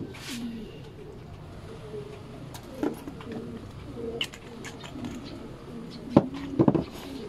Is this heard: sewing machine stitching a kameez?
no